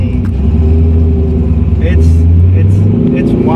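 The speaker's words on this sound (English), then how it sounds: "It's short shifting the car, and you feel it." A cammed LS2 V8 engine in a Mazda MX-5 Miata hums and rumbles steadily, rising in pitch through short-shifted gears with brief shifts, heard close and loud from inside the car.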